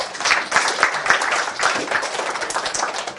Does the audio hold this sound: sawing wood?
no